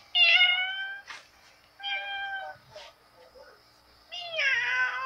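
A cat meows three times, close and clear, each call a drawn-out tonal cry with short gaps between, while a person speaks quietly in the background.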